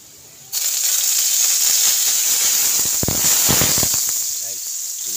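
A loud, steady sizzle erupts suddenly as chopped onion goes into a pan of garlic frying in hot oil for a sardine dish. The hiss holds for several seconds with some crackling bursts, while a voice talks faintly underneath.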